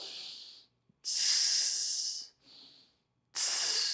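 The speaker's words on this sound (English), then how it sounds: "Breathing in through the nose, hissing out through the mouth, keeping that tension in the core and the abs." Sharp hissing exhales forced through the mouth during a hardstyle plank, three loud close bursts of a second or so each, separated by brief quiet gaps and a softer shorter hiss, with no talking.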